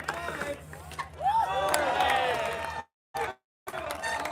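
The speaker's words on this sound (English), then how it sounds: "Look at the crowd going wild here." A crowd at a European Elite Trials Championship men's 20-inch bike final in Aarhus erupts in loud, wild cheering and shouting, building and then cutting off abruptly in short bursts.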